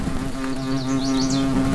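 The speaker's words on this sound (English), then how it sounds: "Oh, there's a big wasp in it." Bald-faced hornets buzz at a tiny nest by a campfire in the woods, a steady close droning hum with rising and falling wingbeat tones, no voices.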